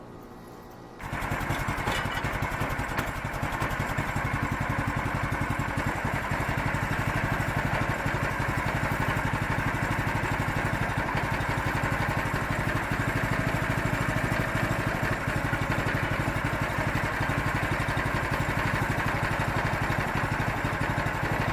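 A motorized net roller for winding netting onto PVC pipe starts up after a second of quiet, then runs with a steady, droning mechanical hum at constant volume, close by and alone.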